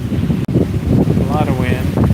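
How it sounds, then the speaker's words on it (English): Strong wind buffets a microphone at a fledge-watch nest railing, a steady broadband roar that continues throughout with a brief dropout, as a voice speaks underneath. "I show you the wind again."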